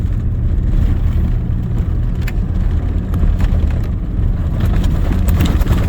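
Vehicle driving on a snowy, drift-prone rural road in a winter storm, a loud continuous low engine and tyre rumble from inside the cab with faint rattles and clicks over it.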